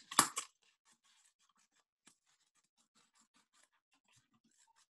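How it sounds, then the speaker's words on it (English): Scissors crunch through a styrofoam plate in one brief, crisp burst at the start, followed by near silence with faint scratches. "scissors, because we are going to cut"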